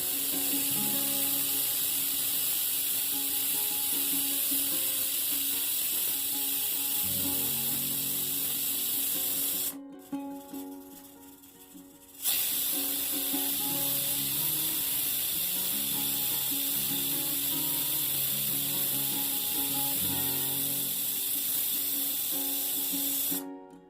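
Steam hisses loudly and continuously from a pressure cooker boiling dal and vegetables, with a mechanical rattle underneath; the hiss drops off briefly, then returns just as strong.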